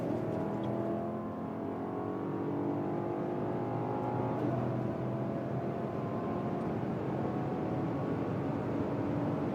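A BMW X6 M60i accelerates hard in sport mode on the German autobahn from about 120 km/h, its engine and road roar rising steadily and loud without any talk.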